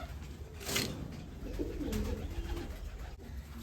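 A Radigal pigeon chick cooing softly, a low, muffled coo repeating close by in a quiet setting, with faint background hiss.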